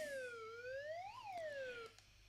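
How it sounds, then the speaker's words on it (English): A small electronic siren from the panic button of a Tidradio TD-H8 two-way radio wails, rising and falling in one sweep, loud and close, then cuts off abruptly. "little panic button, press and hold, and you get the siren."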